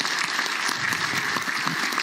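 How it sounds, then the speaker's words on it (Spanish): Audience applause for the president of the Republic at a public event for the Cusco region, a steady dense clapping of a large standing crowd, fairly close and continuous throughout. "me permito solicitarles ponernos de pie y tributarle un fuerte aplauso"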